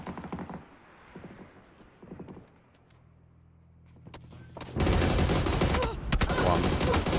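Gunfire in the PUBG video game at an esports championship match: a sudden dense burst of rapid shots fills the last seconds, after scattered clicks and thuds, with faint voices early on.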